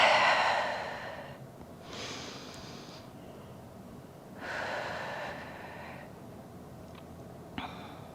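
Slow, audible breaths during a hip stretch in a core workout, three soft airy exhales spaced a few seconds apart, fairly close and quiet, with no talking.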